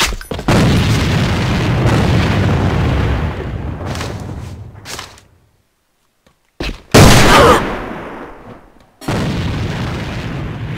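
A grenade explosion in the shooter game Alliance of Valiant Arms comes as loud, close booming blasts with rumbling tails, broken by a brief near-silent gap before more bursts.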